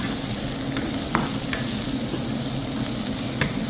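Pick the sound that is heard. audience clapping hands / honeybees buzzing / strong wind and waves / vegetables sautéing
vegetables sautéing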